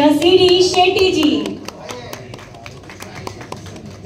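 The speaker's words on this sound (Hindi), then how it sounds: "जोरदार तालियां सीडी शेट्टी जी" At a Bollywood award ceremony, an amplified voice gives way to scattered, sparse hand claps from the audience welcoming a guest, a thin patter of individual claps rather than full applause.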